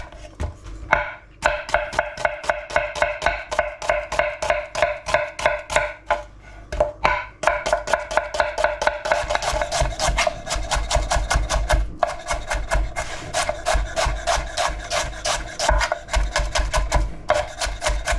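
Rapid, steady knife chopping of red onion on a board for a salad, with crisp close taps in a fast rhythm and a couple of brief pauses.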